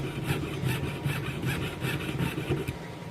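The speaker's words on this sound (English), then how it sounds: "Start sawing it." A hand saw cuts the ends off a silver ingot in steady back-and-forth strokes, a rhythmic rasping scrape repeating about every third of a second, close and continuous with no talk.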